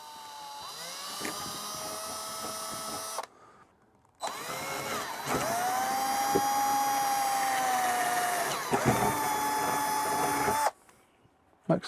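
A power drill bores a small pilot hole into wood on a double-skinned wall while an ALDE temperature sensor is fitted. It whines close up in one short burst and then one longer steady run, with no talking.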